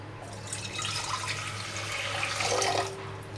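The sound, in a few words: water filling a pot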